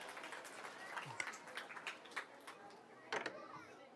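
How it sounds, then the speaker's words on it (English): Scattered, fairly quiet clapping from a small audience at a children's comedy magic show, rewarding a child volunteer, with uneven individual claps and a few voices mixed in. "Round of applause."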